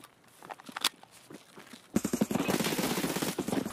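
MP7 submachine gun fire in Escape from Tarkov: scattered distant shots give way after two seconds to a loud, sustained rapid burst of close automatic fire.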